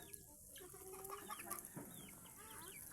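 A Chinese chicken clucks softly in a quiet mountain setting, low scattered calls at moderate distance over faint background sounds.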